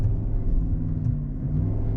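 A 2021 Cadillac Escalade's engine holds a steady low rumble at about half throttle during an off-road climb with a wheel lifted, heard close from inside and continuous for the whole moment, with no talking.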